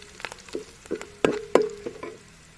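Curry leaves dropped into hot oil with ginger and garlic crackle and spit in a handful of sharp, close pops over a faint background sizzle.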